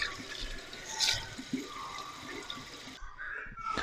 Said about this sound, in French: Et donc là, on fait couler l'eau.